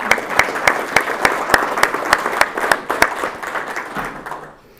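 An audience at a radio club meeting applauds, giving a dense burst of claps that is near and fairly loud and then thins and fades out toward the end.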